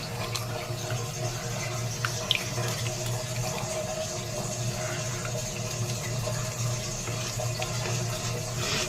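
Water running steadily from a sink tap while a face is wetted, a constant close rushing splash with a faint hum underneath and no talk.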